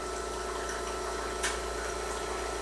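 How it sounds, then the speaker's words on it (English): Espresso machine group head running hot water into a 10-ounce cup, a steady pump hum with a continuous liquid stream, one brief sharp splash or hiss midway. "I'm going to activate the group head, and I'm going to take a 10-ounce cup, and I'm going to collect my water in my 10-ounce cup."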